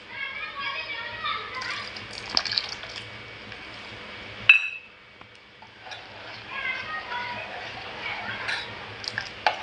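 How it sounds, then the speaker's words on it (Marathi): Kokum water poured into a cooking pot on a gas stove while making Konkani-style kokum saar. A brief splashing pour rises over a steady background of children playing and chattering. "हे कोकमाचं पाणी आहे ते आपल्याला ॲड करायचं ह्याच्यामध्ये"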